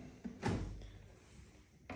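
A kitchen drawer in a freshly renovated apartment is pulled open or pushed shut with one distinct sliding thud, followed by a quieter tail and a faint knock at the end.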